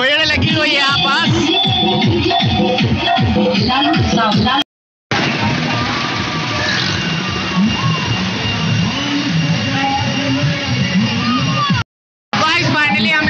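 Loud DJ music blaring over crowd commotion at the gate of Barham Baba temple, with a steady thumping rhythmic beat and dense sustained noise, interrupted by two brief silences.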